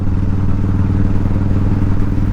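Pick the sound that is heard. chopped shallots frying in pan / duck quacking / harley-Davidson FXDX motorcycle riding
harley-Davidson FXDX motorcycle riding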